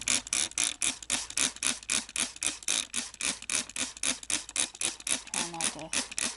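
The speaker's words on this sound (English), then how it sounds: "Let me spray some more water in there." A spray bottle repeatedly mists water into a tarantula enclosure, giving a rapid, even series of short, hissy pumps close to the microphone with no talking.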